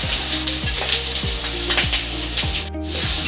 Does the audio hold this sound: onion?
yes